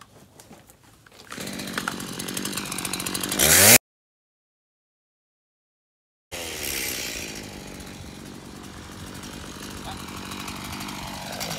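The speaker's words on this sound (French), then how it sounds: "La tronçonneuse, elle est orange" An orange chainsaw cuts through logs in an orchard while pear and apple trees are being pruned, roaring loud and steady for a few seconds, cutting out abruptly, then returning at a strong, even drone.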